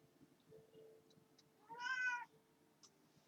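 A cat gives one clear, fairly close meow lasting about half a second, set against a quiet room with faint background noise and no talk.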